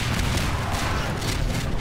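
RPG rockets fired at a helicopter in the Half-Life 2 Tray Mod game, a dense rumbling blast of explosive booms and gunfire filling the whole short stretch, loud and continuous.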